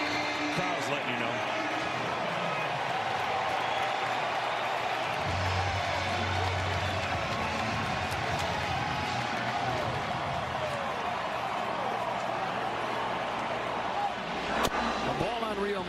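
A large baseball stadium crowd at a Phillies playoff game against the Padres roars steadily and loudly, a dense wash of cheering that holds throughout, with an announcer talking over it.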